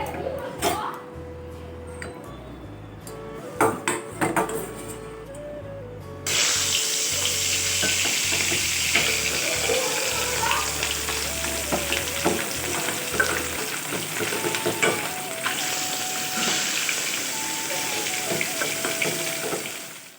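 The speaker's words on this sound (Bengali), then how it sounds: "আমার কড়া গরম হয়ে গিয়েছে, এবার আমি মাছটা দিয়ে দেবো।" Salt-and-turmeric-coated fish hits a hot wok, setting off a loud steady sizzle that swells after a few seconds and keeps hissing, with clinks and stirring noises over it.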